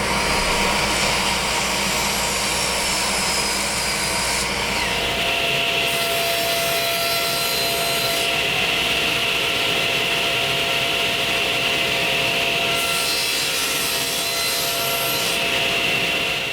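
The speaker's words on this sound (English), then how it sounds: "The decorative apron extensions will be cross-cut on the cross-cut sled" Wood apron extensions being cross-cut on a table saw sled, with a loud steady blade whine running throughout and shifts in tone as the blade enters and leaves the cut.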